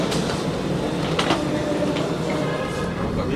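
An automated airport Skytrain people mover in Jakarta rumbles steadily from inside the car, with faint clicks and rattles and low mechanical hum throughout.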